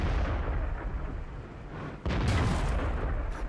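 A tank cannon fires in World of Tanks, one heavy boom hitting sharply around the middle of a low rumbling battle background, with a softer burst just after.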